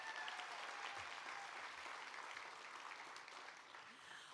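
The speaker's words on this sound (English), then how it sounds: "Would you mind giving them another applause?" Steady audience applause at a realtor celebration, sustained and fairly distant, a wash of many hands clapping together without speech.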